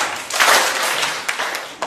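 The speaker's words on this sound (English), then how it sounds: "clap once" Seminar audience members clap once together, a brief group burst that spreads into scattered trailing claps of varying loudness, close and without voices.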